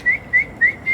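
Someone beside a pond calling catfish and carp gives four short, clear rising whistles at an even, rhythmic pace, close and distinct over faint background.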